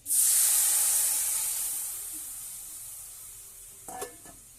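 Coconut milk for a Bengali prawn malai curry poured into a hot pan over fried turmeric and salt, giving a loud burst of sizzle and hiss that slowly fades, with a brief clatter near the end.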